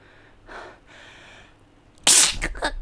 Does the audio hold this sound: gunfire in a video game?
no